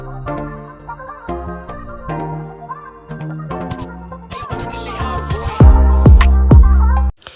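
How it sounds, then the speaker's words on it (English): A hip-hop beat made in BandLab plays alone with steady synth and bass layers, then heavy booming 808 hits and crisp percussion swell louder in the final seconds. "So, first, get a beat that sounds like this."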